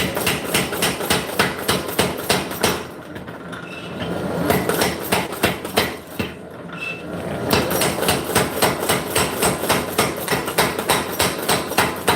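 Steady, rhythmic hammer blows ring out loud and close as an axe blade is forged, about two per second, pausing briefly twice for a few seconds before resuming the same pace.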